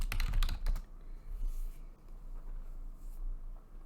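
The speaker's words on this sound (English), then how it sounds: "Let's learn how to type, apparently." Computer keyboard typing, a quick burst of clicky keystrokes in the first second, then quieter scattered taps over a low background hum.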